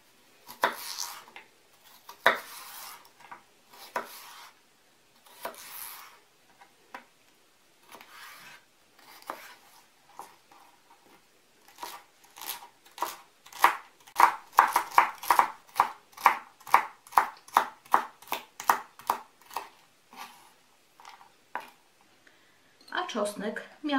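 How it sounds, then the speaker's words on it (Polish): A kitchen knife finely dices celery stalks on a cutting board, making irregular taps that speed into a fast, even run of crisp chops, close and fairly quiet. "kroję w drobną kostkę."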